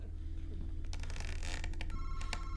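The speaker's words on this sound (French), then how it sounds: "Madison, y'a le téléphone qui sonne" A telephone rings in the horror video game Madison. A short tonal ringing burst comes near the end, after some clattering handling noises.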